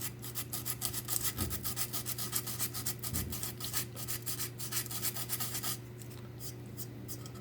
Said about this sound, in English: So I'm just going to take my sandpaper